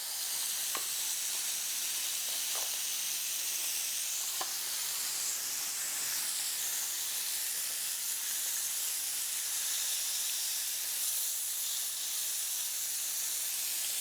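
Meat sears in a hot pan with a steady, close sizzle and hiss that holds at an even level throughout, broken by a few faint clicks.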